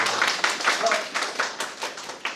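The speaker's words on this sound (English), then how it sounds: "Alright, so let's clap for her." A small audience claps in a quick, uneven patter at close range, short bursts of hand claps mixed with voices talking over them.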